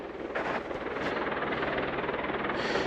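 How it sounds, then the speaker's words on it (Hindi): A helicopter landing at the Dingboche helipad on the Everest Base Camp trek thrums in a steady rotor wash, fairly distant and even in level, with wind-like noise and no talk over it. "वो वहाँ एक हेलीकॉप्टर लैंड कर रहा है, थोड़ी देर बाद में ये उड़ के वापस जाएगा।"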